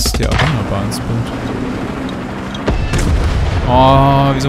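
A sharp explosion in Far Cry 6 booms out, followed by rumbling and a rising engine-like tone, with a voice talking over parts of it.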